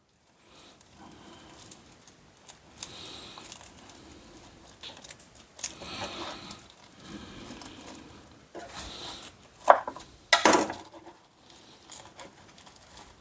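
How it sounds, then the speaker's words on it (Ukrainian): A knife slices a rolled-up pancake on a board in a series of short, uneven cuts, with crisp scraping strokes and brief pauses between them. "і нарізаю такими макаронинами."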